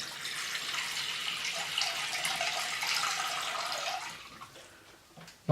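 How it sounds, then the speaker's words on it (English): Water is poured into a bowl of cut apple chunks, a steady splashing stream that runs for several seconds before tapering off and stopping. "I'm going to put a little bit of water in there"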